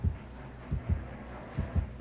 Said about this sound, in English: Heartbeats.